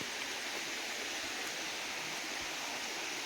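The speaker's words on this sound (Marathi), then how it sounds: "वा किती मोठी नदी आहे" Continuous broadband rush of a large river flowing in a forest, steady and fairly distant, with no voices or distinct events.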